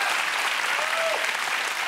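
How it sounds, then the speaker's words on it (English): A studio audience at a television comedy show bursts into loud, sustained applause that fills the whole moment, with a faint voice just under it. "please give him a round of applause"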